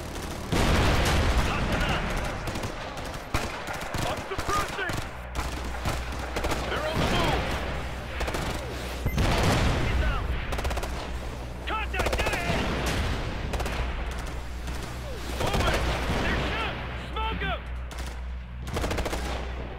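Enemy turret in Ghost Recon: Future Soldier firing sustained loud machine-gun bursts with heavy automatic gunfire and booming impacts across the whole stretch, voices shouting over the battle.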